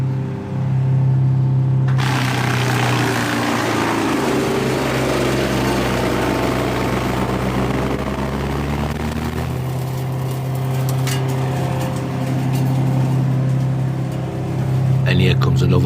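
A garden shredder chews laurel hedge trimmings into small pieces, a loud, continuous motor roar with grinding and crunching as branches feed through, close by and steady.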